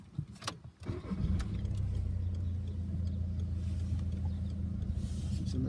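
A manual car pulls away during driving instruction as the clutch comes up, its engine settling into a steady low idle-to-drive rumble close by after a brief clunk at the start.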